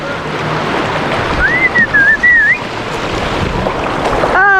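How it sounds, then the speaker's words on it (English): A loud rush of river water and splashing while kayaking and tubing, with wind buffeting the microphone, a brief whistling whoop partway through and a sharp burst of splash at the end. "Oh, that big splash!"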